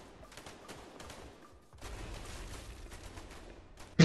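Gunfire in the video game A Way Out comes as scattered, fairly quiet shots and short bursts over a low background, growing busier in the second half with a sharp loud hit at the very end.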